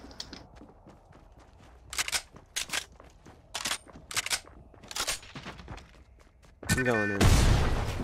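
Crossbow shots in Fortnite Battle Royale, a run of short sharp twangs and snaps spaced a second or so apart, someone speaking briefly among them, then a louder impact and crash at the end.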